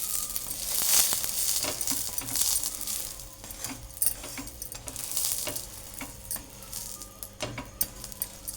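Pav bread toasts in ghee on a hot pan beside smashed pav bhaji vegetables, a soft continuous sizzle punctuated by irregular metallic clicks and scrapes of a spoon.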